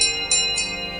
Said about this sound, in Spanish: Una campanilla se oye en algún lugar no definido.